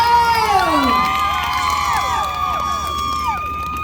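Audience cheering and shouting for a guest performer at a Thai likay folk-theatre show, loud and close, with whoops, raised voices and sweeping sung or whistled tones over a crowd backdrop.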